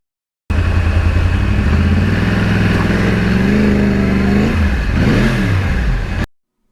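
A Yamaha R1 crossplane superbike engine revs loudly and steadily, climbing in pitch through a sustained rev and then dropping into a sharp throttle blip near the end, with no talking.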